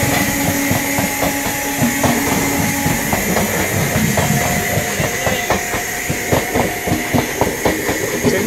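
The Golden Temple Mail passenger train rolls into Mathura Junction, its steady rumble carrying a fast clickety-clack of wheels over rail joints, loud and close with a hissing undertone.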